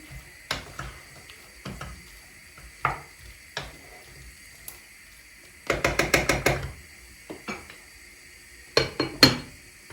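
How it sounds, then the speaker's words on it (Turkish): A spoon stirs food in a cooking pot, giving scattered metallic knocks and scrapes and a quick rattling flurry of clinks midway, close and fairly loud over a quiet background. "Şöyle güzelce karıştıralım."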